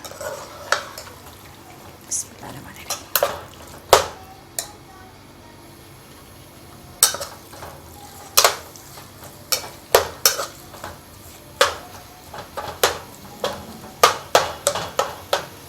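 Minced meat (keema) fries with ginger-garlic paste in a pan, a low sizzle under repeated sharp clacks and scrapes of a spoon stirring against the metal, close and uneven in rhythm.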